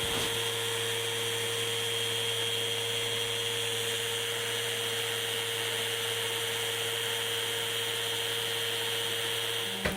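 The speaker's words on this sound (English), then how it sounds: "Let the sander do the work" A power sander works across an end grain wooden cutting board in real time, a steady, unbroken whine and hum running evenly throughout with a constant low drone beneath.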